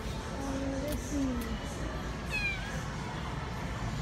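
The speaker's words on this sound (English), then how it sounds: "What are you meowing about?" A cat in a pet store gives a few short, close meows in the first seconds over a constant store hum, then stays quiet while the background continues.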